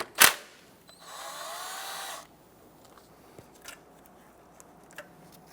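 A power tool spinning a 10mm socket whirs steadily for about a second to loosen a nut on a 1992-1996 Toyota Camry alternator, after a sharp initial clack, followed by faint scattered clicks of the nut coming off.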